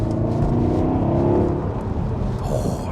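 A V8 Jaguar XK in sport mode accelerating hard, its engine a loud, deep, steady roar heard close up from inside the car without any talk.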